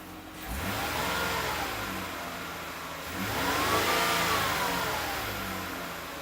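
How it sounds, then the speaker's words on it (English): A Ford car engine revs up twice after a spark plug and ignition coil change, rising and falling in pitch, loud and close with no talking. "I'm going to give it a little bit of a rev"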